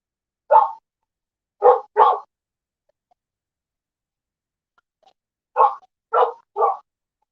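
A dog barks in two bursts: a single bark and a quick double, then after a pause three more barks, moderately close with quiet between.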